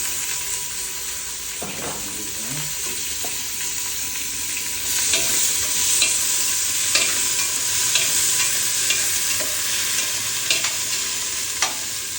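Onions frying in a pan for a Bengali muri ghonto (fish head and rice) dish, with a steady loud sizzle and intermittent scraping and clinking of a spoon stirring them, continuous throughout.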